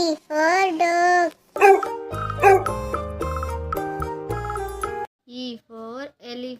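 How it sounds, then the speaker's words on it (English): A dog gives a couple of close, sharp barks, a short upbeat musical jingle follows, and then a few more quick barks or yips end it. "D for dog."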